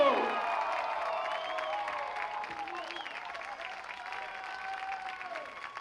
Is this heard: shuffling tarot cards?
no